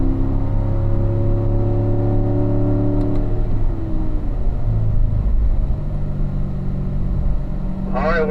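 A car accelerating out of a tight corner, turn 10, on a race track, its engine climbing steadily in pitch through the gear, a loud nearby drone with an instructor's voice talking over it.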